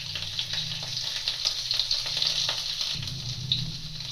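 A pinch of asafoetida and a spoonful of grated ginger fry in hot oil for carrot and radish pickle, giving a steady close sizzle and crackle with light stirring and no talk.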